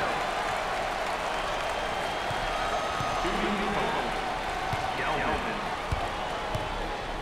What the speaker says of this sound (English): there's all kinds of people standing and cheering and going wacky